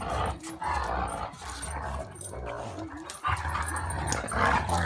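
A dog barks and yips while playing, with growls and whimpers mixed into lively, irregular bursts, close by, and faint voices in the background.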